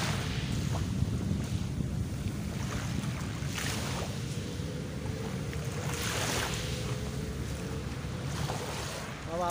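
Waves splash and wash onto the shore at Dolomite Beach, a steady roar of surf with periodic breaking surges, mixed with wind buffeting the microphone.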